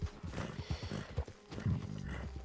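Rhythmic hoof clip-clops of a horse at a steady trot in the video game Red Dead Redemption 2, fairly close, with a brief whinny-like tone near the end.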